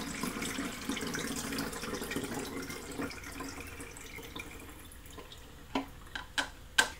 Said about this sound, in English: A fixer is something that you can keep for next time, so I will just pour that back into this container.